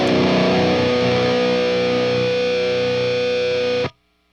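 A sustained, heavily distorted electric guitar chord rings loudly through a Bogner Uberschall Twin Jet amplifier for several seconds, then cuts off abruptly into silence.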